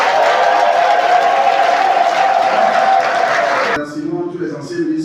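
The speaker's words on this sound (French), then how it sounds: "une minute d'applaudissement pour ces deux ministres." Sustained applause from a large crowd at a ceremony for the WHO's 75th anniversary in Côte d'Ivoire fills most of the clip, then cuts off as a voice begins speaking.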